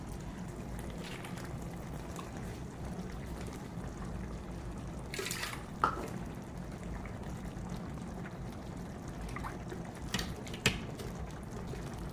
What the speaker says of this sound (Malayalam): ഇതിലേക്ക് ഒരു കപ്പ് വെള്ളം ഒഴിച്ചിട്ട് ഒഴിച്ചു കൊടുക്കുക